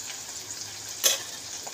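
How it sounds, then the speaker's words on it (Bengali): Onions fry in oil in a pan for a Bengali eggplant and poppy seed dish, a steady close sizzle with one brief sharp crackle partway through, no voices. "পেঁয়াজটা ভাজা হচ্ছে"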